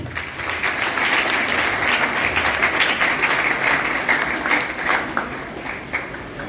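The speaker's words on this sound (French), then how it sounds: "Un applaudissement, s'il vous plaît." An audience at a school district event in Saint-Marc gives a round of applause, steady dense clapping for several seconds that gradually thins and softens toward the close.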